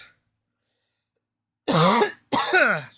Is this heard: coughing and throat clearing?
yes